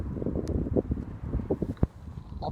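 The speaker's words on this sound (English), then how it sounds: "Obviously it's very windy," Strong gusty wind buffets the microphone on the open seashore at Rhyl during a sea fishing session, with uneven rumbling surges and a sharp thump near the end.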